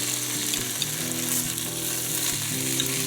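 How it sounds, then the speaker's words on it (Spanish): Bacon sizzles and crackles steadily in a frying pan for potatoes au gratin, with a pot of water boiling nearby; the frying noise is loud, continuous and close, with no talking. "cómo está hirviendo el agua y acá estamos dando vuelta el bacon"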